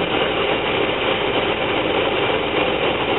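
A van engine idles with a steady, even rumble and no changes in pitch or speed, loud and close throughout, during a fuel pressure check.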